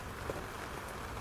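Rain falls as a steady, soft, even patter with no distinct drops standing out, continuous and fairly quiet throughout.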